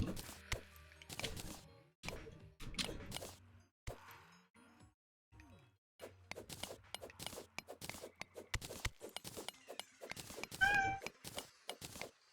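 A cat meows several times in short calls among clicks and small household knocks, fairly close, with no talk over it.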